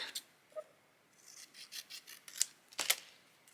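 Scissors cut paper for a DIY junk journal, a few quiet, scattered snips and rasping scrapes up close, short and irregular, in a hushed room with no speech.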